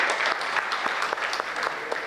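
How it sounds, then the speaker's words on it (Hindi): Audience applause at a Hindi kavi sammelan poetry gathering, a steady wash of many hands clapping at close range for about two seconds, with a few louder individual claps standing out and no talk over it. "मैं चाहता हूँ जरा जोरदार तालियां"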